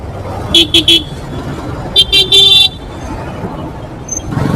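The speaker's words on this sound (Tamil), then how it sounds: "அத்திப்பள்ளி தாண்டி பெங்களூர் போகிற மெயின் சென்னை பைபாஸ் ஹைவே எதுக்கு இவ்வளோ டிராஃபிக்ன்ட்டு தெரியல" Heavy traffic on the main Chennai bypass highway past Attibele toward Bangalore, with a steady road rumble and two loud clusters of short, close car horn toots, plus faint talking.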